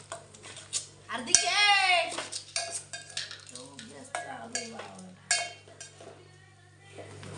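Spoon clinking and scraping in a pot while tomatoes are stirred into fried onions for masala rice, a run of irregular metallic taps and scrapes at close range, with talking over it.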